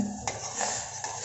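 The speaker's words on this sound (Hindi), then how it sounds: "अब इसको बीच बीच में चलाते रहना है" A spoon stirs a turmeric home remedy in a metal pan, giving a few faint scraping clinks and taps over quiet background hiss.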